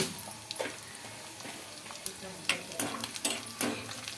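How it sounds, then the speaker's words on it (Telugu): Crushed garlic cloves, cumin, mustard seeds and a dried red chili fry in hot oil for a pudina roti pachadi, giving a soft steady sizzle broken by several sharp pops and spatters, with no talking. "ఈ వెల్లుల్లి రెబ్బలు అయితే మనకు కొద్దిగా ఫ్రై అవ్వాలండి"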